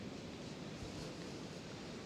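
A small waterfall at a dam gives a steady, faint rushing hiss of falling water, even and unbroken throughout.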